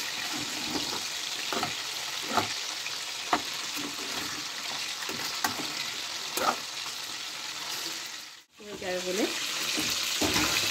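Chopped garlic fries in a pan for hotel-style chilli chicken, a steady close sizzle with small stirring pulses, briefly interrupted near the end, while a voice speaks faintly.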